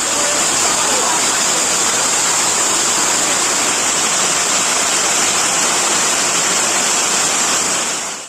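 Heavy downpour with floodwater and overflowing drain sewage rushing through streets in Konaseema district, Andhra Pradesh, forms a loud, steady roar of flowing water that continues unbroken throughout.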